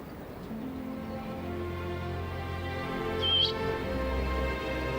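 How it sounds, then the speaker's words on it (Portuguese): A Bonin white-eye, a small bird about 14 cm long found only on the Ogasawara Islands, gives a brief high call against a steady low hum of background ambience. "Este é o bonim de olhos brancos."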